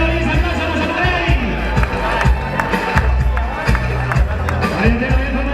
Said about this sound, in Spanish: venga, Luis, aplausos a Massamanera.